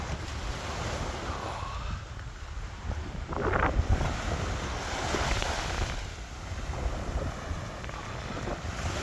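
Sea waves wash along the coast of County Wexford on a bright day, a steady broadband surf roar with gusts of wind buffeting the microphone and a slightly stronger swell of water near the middle.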